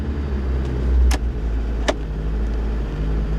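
A 1987 Nissan Be-1, a right-hand-drive Japanese import, idling at about 1,000 RPM, a low steady engine hum with two sharp clicks or taps over it and no talking.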